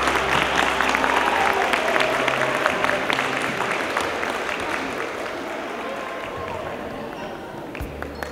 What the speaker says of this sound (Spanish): Esperamos el cariñoso aplauso para las profesoras.